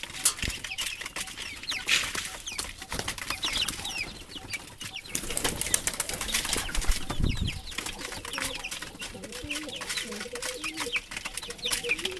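Hens cluck and murmur at close range amid chirping birds and occasional rustling, a busy farmyard chorus with no talking.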